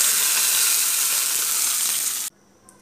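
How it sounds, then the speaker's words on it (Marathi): Onion, garlic and tomato sizzle loudly as they roast in a pan over a gas flame, a steady dense frying hiss that cuts off abruptly near the end, leaving near silence. "आता आपण हे सगळं भाजून घेणार आहोत 1-2 मिनिटं"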